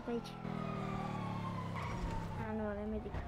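Police car siren in the GTA FiveM video game, a steady wailing tone running throughout under game engine and ambient noise, with a second siren pitch joining near the end.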